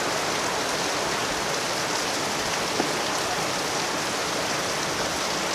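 Heavy rain pours steadily outside a traditional Javanese food stall in Serpong, a dense, even hiss that continues unbroken throughout with no other sound standing out.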